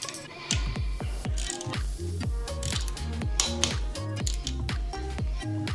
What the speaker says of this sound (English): Now you're going to get your torque wrench with a 6mm Allen socket on it, set it to 12 Newton meters